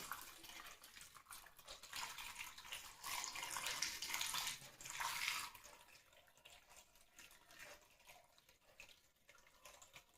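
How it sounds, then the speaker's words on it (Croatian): Hot water poured over potatoes for a meatball and potato stew, a steady splashing gush that builds and peaks midway, then eases into lighter trickling and drips, heard alone without talk. "Tu ću sada zalijem vrućom vodom"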